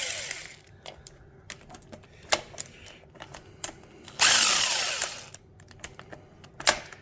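Power tool backing out intake manifold bolts on a Firebird, heard as short whirring bursts among clicks and clatter, then one sustained high whine lasting about a second, close and loud.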